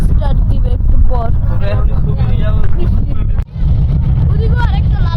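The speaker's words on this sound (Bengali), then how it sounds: "ট্রলারের ওখানে এত শব্দ হইতেছে" A trawler engine at Banglabazar, Munshiganj, on water with a strong current, gives a steady low rumble under nearby talk and dips out briefly near the end.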